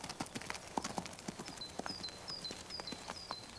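A horse approaches with clear, evenly paced clip-clopping hooves, each strike distinct and growing a little louder, while faint high chirps of birds sound in the background.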